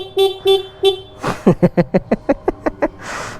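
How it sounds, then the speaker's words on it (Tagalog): Kawasaki Ninja 1000 motorcycle's stock horn: three short, thin beeps, followed by a quick burst of engine revving and a run of about ten rapid, evenly spaced pulses; faint and close. "ipaparinig ko sa inyo, guys, ang busina na itong motor na to"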